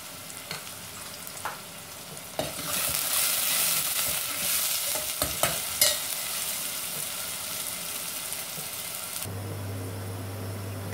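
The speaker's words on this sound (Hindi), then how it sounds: "तो कांदे को गुलाबी होने तक भून लेंगे।" Onions fry in a pan for a Sindhi-style dal palak, giving a bright sizzling hiss punctuated by scraping stir strokes, then the sizzle cuts off near the end, leaving a low steady hum.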